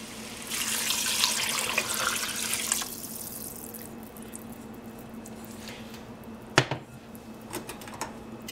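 Water pours from a tap into a cooking pot for about two seconds, a steady broadband rush that stops abruptly, followed by a few clinks and light knocks of the pot in a quiet kitchen.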